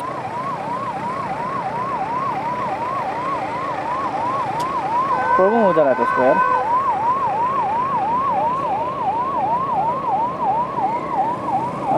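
An ambulance siren wails in a steady repeating rise-and-fall pattern as it passes along a street, loud and continuous, with a brief burst of higher warbling tones layered in midway.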